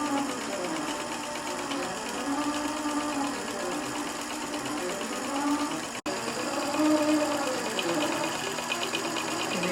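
A sewing machine runs steadily through a long stitching pass, a continuous close mechanical hum with rapid rhythmic needle clatter, briefly stopping for an instant midway before resuming, with no talk over it.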